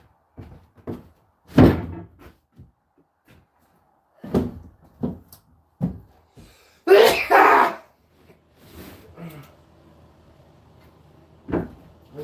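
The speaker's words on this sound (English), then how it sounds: "That was a good sneeze." A sneeze bursts out loud and close in a workspace under a mobile home floor during insulation work, with scattered thumps of plywood and other knocks before and after.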